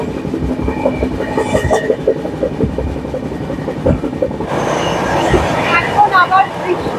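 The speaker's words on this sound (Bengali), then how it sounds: "এবারে ট্রেন খুব তাড়াতাড়ি চলে যাবে" The Howrah to SMVT Bengaluru Express 12245 rolling along the tracks, loud rhythmic wheel clatter and rumbling carriages heard close up, with squealing wheels building toward the end.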